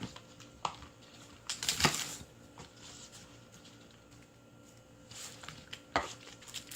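Green onion (daepa) being chopped on a cutting board for spicy blue crab stew, a few sharp, spaced knife knocks against the board, quiet and close with no talking.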